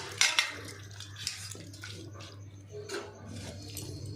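Water runs and splashes as a kajli fish is rinsed after being rubbed with salt for a mustard recipe, a steady close wash with a few sharp splashes near the start.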